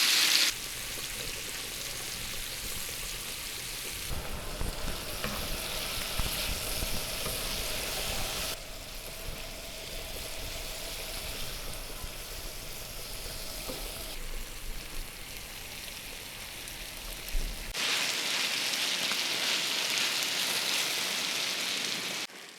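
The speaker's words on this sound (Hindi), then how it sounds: "मसाला भी हमने कलेजी के साथ तवे पे डाल देना है। हल्की आंच पर हम इसको दोनों साइड से 2-3 मिनट तक पकाएंगे।" Chicken liver (kaleji) with spices sizzles steadily on a hot tawa, a dense continuous frying hiss with occasional stirring, loud and close with no voices.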